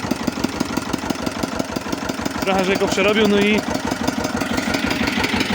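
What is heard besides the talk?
car engine running with modified exhaust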